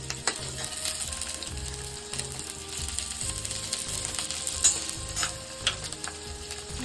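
Vegetables for soya chilli Manchurian, including chopped chilli and spring onion, are stirred and mixed in a hot pan, with steady sizzling and repeated scraping clicks of a spoon against the pan, and no talking.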